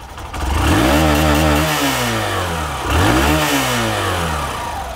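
Loud, close revving of a Hero Glamour BS6 motorcycle engine: two sharp throttle blips rise and fall in pitch, with a buzzing, rattling mechanical edge throughout and no voices.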